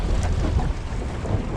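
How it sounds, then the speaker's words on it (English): Strong gusting wind buffets the microphone beside a river channel marker, giving a loud, low, rumbling roar that swells and dips unevenly with no other sounds coming through. "It's really windy."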